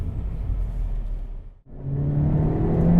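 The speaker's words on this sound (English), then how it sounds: "That's rev hanging right there." A 2017 Honda Civic Hatchback Sport with the 1.5T engine and six-speed manual hangs its revs: a low rumble holds, briefly drops away, then returns as a rising engine hum heard from inside the car.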